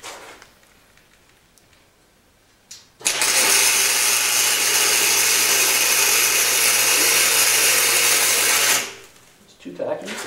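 Tack welding on the steel frame of a Snapper racing tractor build produces one loud, steady broadband hiss and crackle lasting about six seconds, close to the microphone, with quieter pauses before and after.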